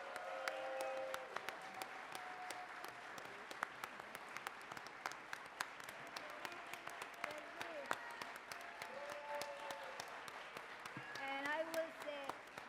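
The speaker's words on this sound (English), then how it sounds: "I want an applause for Ruth Martinez." Audience applause at a talk on labor and health activism, a sustained patter of clapping from a crowd at moderate distance, with a few voices and faint whistles near the end.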